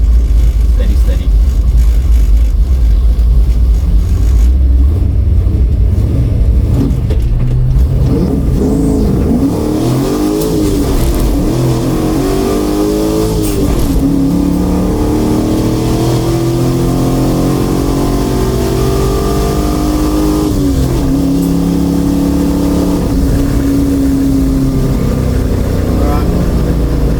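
A Chev-powered drag car launches down the quarter mile at a dragway, its engine roaring loudly and continuously with rising, revving harmonics that climb and dip through the run, with voices talking over it.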